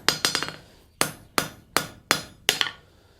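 Hammer blows on hot steel while forging a tenon for a gothic door knocker: a quick cluster of four strikes, then five sharp ringing blows at a steady pace, close and clear with no voices.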